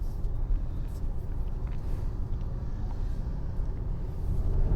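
A Tata Harrier petrol car with a 1.5-litre turbo GDI engine (170 PS) is heard from inside while driving: a steady, moderately loud low rumble of engine and road noise continues throughout, with no pauses.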